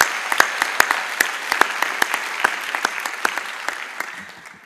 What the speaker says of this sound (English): an extra applause is always good